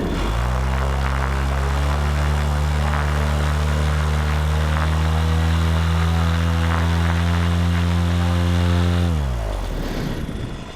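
Paramotor engine revved up on the ground, a loud steady droning roar with a strong buzzing harmonic tone that holds for about nine seconds, then drops quickly as the throttle is cut.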